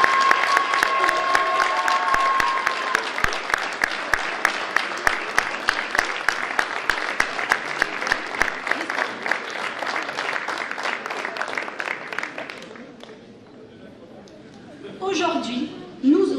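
At a town-hall New Year ceremony in Ondres, an audience gives sustained, even applause to honoured local bakers, a dense clapping crowd that fades after about twelve seconds into quiet, then brief voices and stirring near the end.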